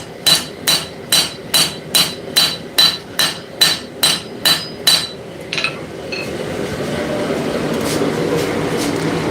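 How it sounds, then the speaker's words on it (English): A ball peen hammer strikes hot metal in a forging workshop, about a dozen sharp ringing blows in an even rhythm, then stops as a softer rushing noise continues. "Never underestimate a good ball peen hammer."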